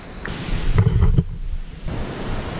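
Waterfall on a forest hiking trail near Kinney Lake on the Berg Lake route in Canada, heard as a steady broadband rush with a brief rustle from the recordist partway through.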